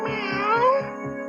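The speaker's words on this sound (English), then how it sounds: "Sounds like a very large pussycat." A very large cat lets out one long, drawn-out meow, loud and close, rising and falling in pitch over a soft rhythmic low thumping, with no talking.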